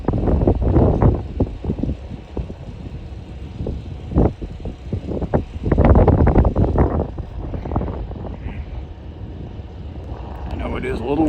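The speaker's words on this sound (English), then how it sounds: "I know it is a little windy down here." Gusty wind buffets the microphone on the Lake Erie shore at Conneaut as the freighter Walter J McCarthy Jr. comes in to dock, with rumbling bursts and steady low roar throughout while a person talks.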